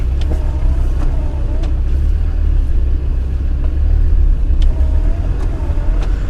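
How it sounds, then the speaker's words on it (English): An off-road vehicle green laning in the Lake District crawls with its tyre going over a big boulder, a continuous loud, low engine rumble close by with faint knocks and scrapes. "your left tyre should go over this big boulder on the left side there"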